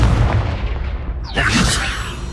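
A Confringo fire spell blasts from a wand in Hogwarts Legacy, one sudden bright burst with a crackling whoosh that rises out of a low rumbling background and lingers for about a second.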